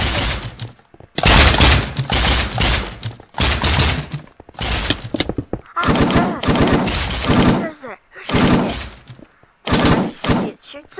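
Loud, close bursts of rapid automatic gunfire from a Minecraft war mini-game come in repeated volleys separated by short gaps.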